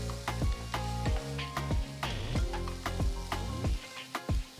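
Onions, ginger and green chillies sizzle and crackle in hot oil, with repeated sharp scraping and stirring clanks against the pan.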